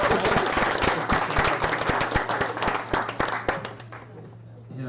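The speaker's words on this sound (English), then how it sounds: "Let's give them another round of applause right now." An audience at a Techweek tech talent showcase applauds its mentors with sustained clapping. The crowd is close and fairly loud, with a voice speaking over the applause before it tails off.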